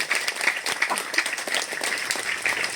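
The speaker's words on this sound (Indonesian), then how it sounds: "Aplaus dulu untuk anak-anak sekalian." Applause from an audience at an elementary school graduation and farewell ceremony for sixth-grade students, steady dense clapping sustained throughout at moderate distance.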